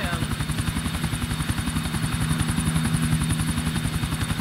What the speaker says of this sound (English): There be the other chopper.